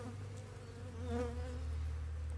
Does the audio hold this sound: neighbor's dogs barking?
no